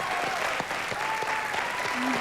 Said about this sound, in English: And a big round of applause for Tom and Kym.